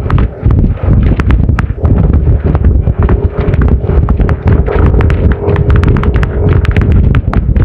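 Strong wind buffets the microphone in a steady, loud, rumbling roar throughout, with gusty surges and crackling bursts, heard at a 60 kph race event.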